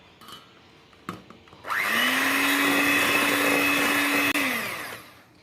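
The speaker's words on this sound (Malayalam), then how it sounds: "എന്നിട്ട് നമുക്ക് ഒരു ഫൈനലായിട്ട് ഇനിയൊരു പ്രാവശ്യം ബ്ലെൻഡ് ചെയ്യാം" An electric blender mixes chocolate chip cookie batter for a final blend: after a few faint knocks, the motor starts abruptly and holds a loud, steady whir for several seconds, then winds down.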